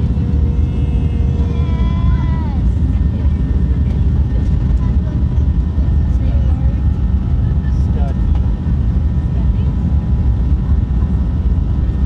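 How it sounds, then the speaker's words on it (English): Aircraft engines spooling up before a flight, heard from inside the cabin as a loud steady roar with rising whining tones that climb over the first few seconds, then settle into constant drone. "Engines are starting."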